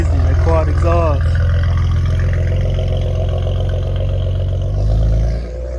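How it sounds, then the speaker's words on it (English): A Maserati Ghibli engine running through its quad exhaust, a deep steady low rumble that holds close and loud for several seconds before dropping off, with a short exclamation near the start. "This is crazy. The quad exhaust."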